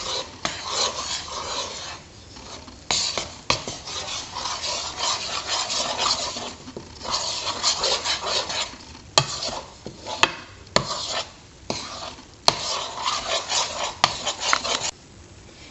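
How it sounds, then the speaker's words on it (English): Fudge marble cake batter being stirred in a bowl, a continuous rubbing, scraping rhythm of repeated strokes with brief pauses and a few sharp knocks against the bowl. "Once you have your ingredients mixed in, you need to start stirring for 30 seconds"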